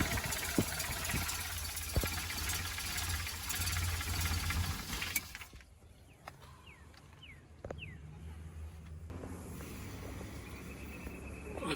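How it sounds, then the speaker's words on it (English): A vintage van's tired engine idles with a steady rough rumble, loud and close for about five seconds before dropping to a quieter, thinner idle with faint chirps above it. "I think this might be the end of this engine"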